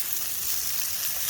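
Broccoli hits a hot pan with a steady, bright sizzle of frying that holds evenly throughout, close and moderately loud with no talking.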